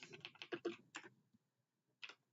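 Quick bursts of keystrokes on a computer keyboard, a close flurry of taps followed by a pause and one last short cluster, with no talking.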